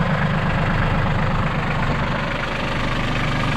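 A New Holland TC30 compact tractor engine idles while warming up, a loud, close, steady diesel rumble with an even low knocking pulse and no variation in pace.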